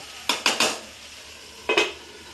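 A metal lid is set on a cooking pot of chicken for Bengali-style biryani, making a few sharp clanks: three quick metallic knocks, a pause, then two more, close and alone.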